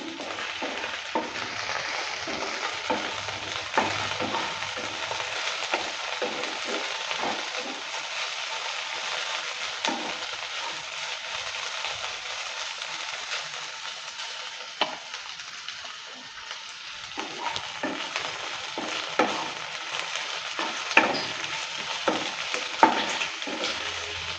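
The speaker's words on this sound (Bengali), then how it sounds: "ঢাকনাটা তুলে নেওয়ার পর নেড়ে চেড়ে নিচ্ছে" Okra (bhindi) frying in a pan after the lid is lifted, with a continuous crackling sizzle and repeated stirring scrapes of a spatula, steady and close for the whole stretch.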